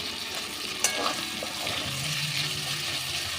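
About five chopped onions fry in a pan of hot oil for a Bihari chicken curry, giving a steady close sizzle with a few stirring scrapes and a sharp clink near the start.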